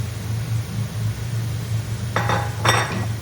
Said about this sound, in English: I keep stirring it because I want to make sure that I get all the corners in the pot